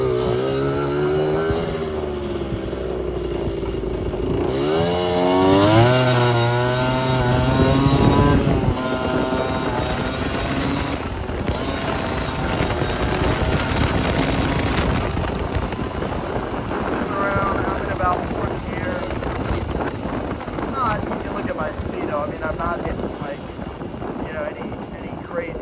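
A 1988 Yamaha DT50LC two-stroke motorcycle on a summer night ride downshifts with rising and falling buzzy engine pitch, then carries on steadily under heavy wind rush, loud and close, with someone talking over it.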